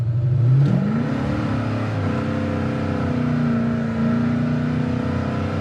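A 1971 Chevelle SS V8 with a lopey cam revs sharply once, then settles into a loud, rumbling, slightly uneven idle close by, with a small blip of throttle later on.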